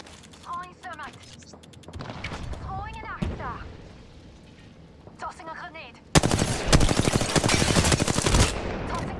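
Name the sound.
minigun firing in the video game Apex Legends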